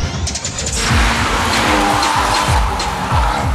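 Abarth 124 Rally car on a Var rally stage, tires squealing and skidding over a loud, steady engine roar, with a brief crash-like transient at the start; no talking.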